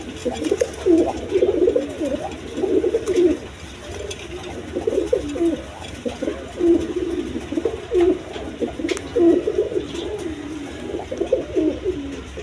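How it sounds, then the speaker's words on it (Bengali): High-flying pigeons cooing in repeated soft, throaty bursts roughly every second or so, close and clear over a quiet background. "দর্শক এখানে একবার হাই ফ্লাইং কবুতর আছে"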